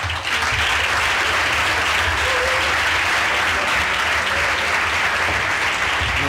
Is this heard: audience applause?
yes